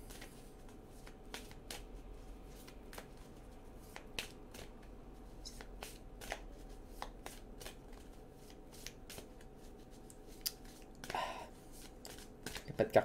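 Tarot cards are handled and shuffled close up, with crisp riffling bursts and soft slides between them and quiet speech in the background.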